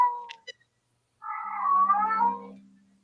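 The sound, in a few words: cat meowing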